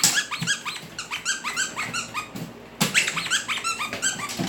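A dog squeaks and growls in repeated short bursts while chewing on a household unit indoors, close and fairly loud, with a brief pause midway.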